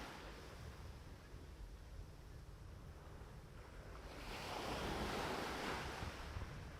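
Ocean surf washing onto a sandy, rocky beach, a steady broadband roar that swells louder midway as a larger wave breaks, with wind buffeting the microphone throughout.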